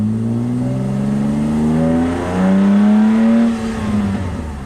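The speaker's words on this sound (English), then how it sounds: "brutal, brutal acceleration" A BMW E36 328ic kart accelerates hard, its engine droning loud and close as the pitch climbs steadily through the revs, drops briefly at a gear change, then rises again, with no voices.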